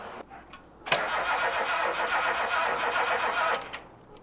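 A car engine cranks and catches, then runs at a steady loud idle for a few seconds before shutting off, close by with no talking.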